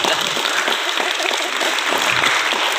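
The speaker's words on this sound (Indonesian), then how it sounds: "tepuk paha aja, tepuk paha" A crowd at an Islamic religious talk slaps their thighs in place of clapping, producing a dense, continuous patter of many hands that holds steady and fairly loud throughout.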